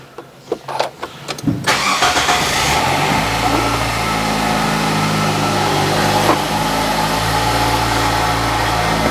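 A 2016 Nissan X-Trail 2.0 4WD started with its push-start button: a few clicks, then the engine cranks, catches and settles into a steady, loud, close idle hum, with no voices.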